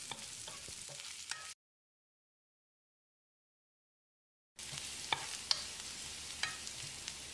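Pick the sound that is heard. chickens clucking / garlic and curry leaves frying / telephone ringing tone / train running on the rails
garlic and curry leaves frying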